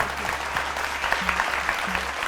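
Applause for a singer on a Kannada singing reality show: a steady, moderately loud patter of clapping across a couple of seconds, with faint tonal hum underneath and no speech.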